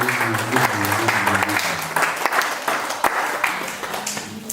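Congregation clapping steadily throughout a Sunday worship service, a dense, loud wash of applause with a few sharper claps standing out, voices and music blended faintly underneath.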